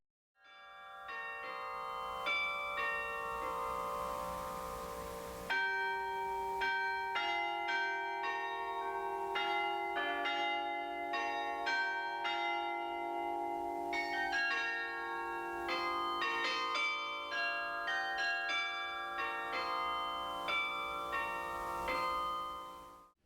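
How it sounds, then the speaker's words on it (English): Carillon bells play a slow, steady melody with ringing overlapping tones, clear and sustained, with no voices. "It is a study, written to sound like pleasant bells to those passing by."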